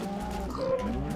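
A cow lowing in the Minecraft video game, one short mid-pitched moo rising out of a steady game background with no speech.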